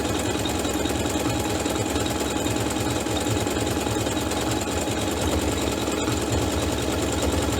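A sewing machine stitching a decorative pattern on chenille fabric runs at a steady, rapid mechanical rattle and whir throughout, close and continuous, with no talk.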